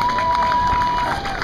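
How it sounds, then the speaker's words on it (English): A crowd at a memorial run bursts into brief cheering and applause outdoors, loud and close, with a steady tone running underneath. "Big round of applause for Dart and all of our volunteers"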